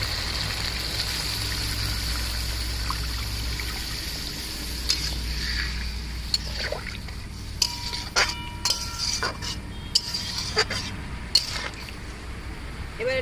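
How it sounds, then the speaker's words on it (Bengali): Ground spice paste mixed with water is poured into a pan of mustard hilsa, a soft watery trickle over a low steady background hum, with light clinks of utensils against the pan toward the end. "এবার মশলা বাটা জলটা দিয়ে দিচ্ছি।"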